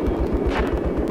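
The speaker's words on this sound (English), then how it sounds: "Yeah, I think they're shooting at me." Rapid automatic gunfire rattles in Metro 2033, a dense, fast, loud burst of shots with a heavy low thump running the whole short stretch.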